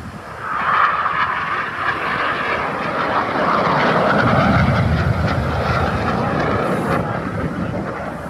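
RAF Red Arrows jets roar past at the 2023 Bournemouth Air Festival, a loud, sustained broadband rush that swells toward the middle and stays strong, heard from the crowd with no talk over it.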